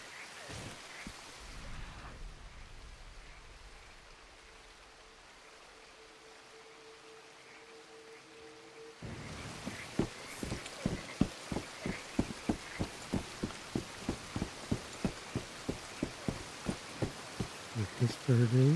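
Rain falls in the open world of the video game Red Dead Redemption 2, a soft steady patter that grows denser and louder partway through, with faint ambient tones beneath.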